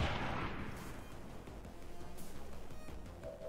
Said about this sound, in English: That's an explosion, and an explosion might be enough damage to knock him down.